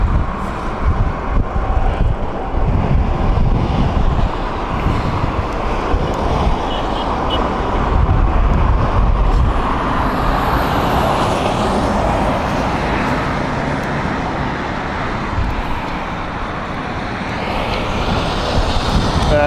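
A Lufthansa Airbus A350 passes overhead at Heathrow Airport, a loud, continuous jet roar with broadband rumble and wind buffeting that swells and shifts in pitch as it crosses, filling the whole stretch without talk.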